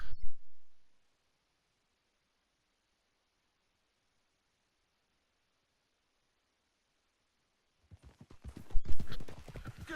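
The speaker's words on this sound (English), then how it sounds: "Hitch your horse up here." Horse hooves walking in the Red Dead Redemption 2 video game: a short burst of clopping opens, a long stretch of near silence follows, and louder, closer hoofbeats return near the end.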